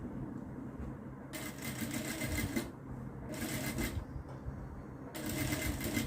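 A sewing machine stitches a long children's frock made from a saree, with several bursts of rapid needle chatter over a steady hum and background noise, and no talking.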